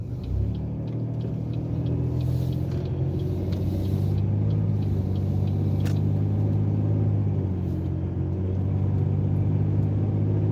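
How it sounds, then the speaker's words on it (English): A car cruises along an expressway at night, its cabin filled with a steady low engine and road rumble holding an even drone throughout, broken by a few faint clicks. "I'm going to do a merge on the expressway to show you what you need."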